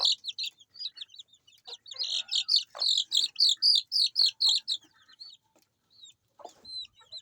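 Young silkie crossbreed chicks and a rooster cluck and peep close by, with rapid bursts of high chirps and clucks that are loudest in the middle and thin out toward the end.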